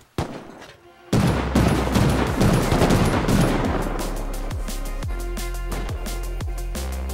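Loud, rapid gunfire aimed at turrets in a multiplayer survival video game. After a quiet start it breaks into a dense, sustained volley that settles into steady repeated shots.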